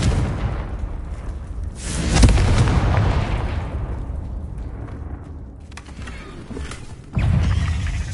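A spell explosion from Hogwarts Legacy, the Confringo fire blast, booms and rumbles through a noisy battle scene, with a heavy burst around the middle and another sharp blast near the end.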